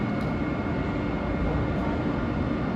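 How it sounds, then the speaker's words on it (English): Passenger train pulling into Bryn Mawr station in the Philadelphia area, a steady close rumble with broadband rolling noise throughout and no speech. "Should have train 137 coming in over there in a couple of minutes."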